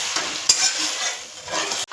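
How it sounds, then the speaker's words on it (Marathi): Amaranth greens sauté in a pan, a hissing sizzle with a few quick stirring scrapes and a sharp clink of a utensil, heard close with no voices. "भाजी चांगली आता परतून घेऊन झाकण ठेवूया."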